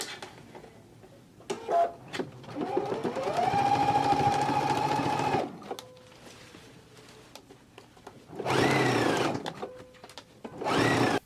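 A sewing machine stitches down the lower band of a jacket at a half-inch seam allowance, running in a steady whirring burst of a few seconds, with shorter runs and clicks before and after.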